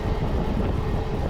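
Inside MEMU train 67204 on the Renigunta to Nellore line near Manubolu, a continuous close rumble of moving carriages carries on, with faint rhythmic track clatter beneath.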